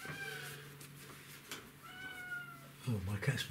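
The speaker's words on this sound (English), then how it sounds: "Oh, my cat's meowing." A cat meows in a drawn-out, wavering call, then again after a short pause, fairly faint against a quiet room, followed by some close handling noise at the end.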